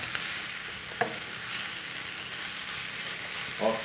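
Chicory being sautéed in a pan with chili pepper, a steady moderate sizzle with occasional soft clinks and stirring touches.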